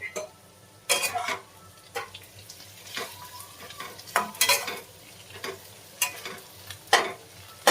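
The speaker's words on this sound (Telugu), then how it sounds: "డెఫినెట్గా మంచిగా ఫ్రై చేసుకోండి వంకాయలు అయితే." Eggplant pieces frying in oil in a pan, heard as a steady soft sizzle with repeated louder bursts of stirring and scraping against the pan at irregular intervals, close by, with no talking.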